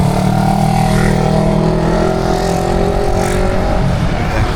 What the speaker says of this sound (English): Mass of scooters.